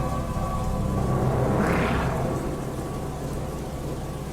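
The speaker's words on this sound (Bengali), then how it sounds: "বাইরে একই মুষলধারে বৃষ্টি, তার উপর থেকে থেকে বাজ পড়ছে" Heavy, pouring rain hisses steadily while a deep roll of thunder swells and fades in the middle, loud and continuous with no voices, set in an animated ghost story.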